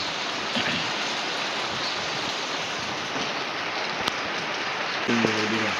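Steady rain falling outside, heard as a dense, even hiss that runs unbroken for several seconds, fairly loud and close, with a few faint tonal sounds near the end.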